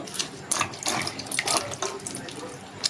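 Wild village mushrooms are washed of soil under running water, giving close splashing and trickling with short bursts of rinsing.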